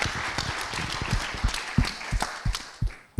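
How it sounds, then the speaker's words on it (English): An audience at a LIGO gravitational-wave lecture claps in a short burst of applause, a dense patter of hand claps that stays fairly loud throughout. "can we have a round of applause for all four?"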